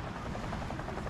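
An airplane flies in the video game Sausage Man with a steady, dense, rumbling engine drone, close and constant throughout the short moment with no speech.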